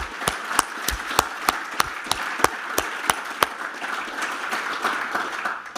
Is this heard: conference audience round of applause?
yes